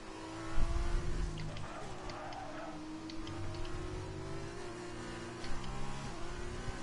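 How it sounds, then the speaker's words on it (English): A real car engine drones and shifts pitch, picked up faintly through a headset microphone during an online F2 sim race, with a brief louder bump near the start. "I heard a real car through someone's mic just then."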